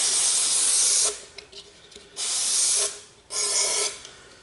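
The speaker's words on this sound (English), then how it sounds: "Carb cleaner." Carburetor cleaner sprayed in a garage during a 2008 Honda CR-V transmission pan service: three loud, close aerosol hisses of about a second each, separated by short pauses filled with faint handling noises.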